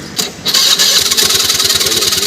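Honda Activa scooter with a noisy self-starter: a loud, rattling whirr of the starter cranking that catches into a rapid, pulsing engine, heard up close with no talking.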